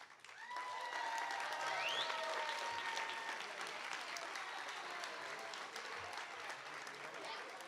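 A crowd at a realtor installation ceremony for the 2024 leaders bursts into sustained applause with a few whistles, the clapping building quickly and holding steady at a moderate distance.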